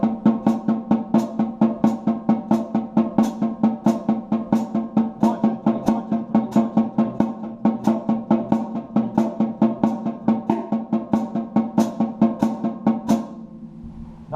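A drum kit plays a steady triplet-time pattern with the snare marking four against three, dense regular hits at even loudness continuing for about thirteen seconds before stopping.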